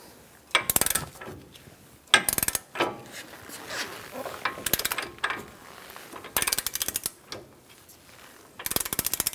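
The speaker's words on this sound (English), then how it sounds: "We're going to torque this to 81 foot-pounds and then go a sixth of a turn." A ratchet tightens the front strut bolts on a 2012-2018 Ford Focus to torque in repeated bursts of rapid metallic clicking, with short pauses between strokes, close and fairly loud.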